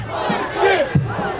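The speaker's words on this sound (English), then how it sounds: "the Go Leuzinger cheer comes up on the side of the Olympians" A football crowd at a 1988 Leuzinger versus Santa Monica high school game chants the Go Leuzinger cheer, a loud, massed rhythmic shout of many voices from the stands.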